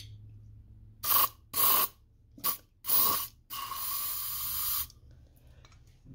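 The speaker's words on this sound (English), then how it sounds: "We could get some brake cleaner in there and" Several short bursts of aerosol brake cleaner sprayed into a Honda clone engine, then one long hissing spray lasting a few seconds, loud and close.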